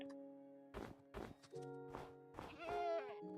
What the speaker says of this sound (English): I'm pretty sure we just got the goats.